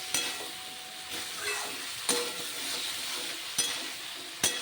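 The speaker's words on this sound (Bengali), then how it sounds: "এবার পুরো মশলাটার সঙ্গে পটল দিয়ে ভালো করে কষিয়ে নেব 2-3 মিনিট পর্যন্ত।" Fried pointed gourd is stirred into spice paste in a pan, giving a soft continuous sizzle broken by a few sharp spatula knocks against the pan.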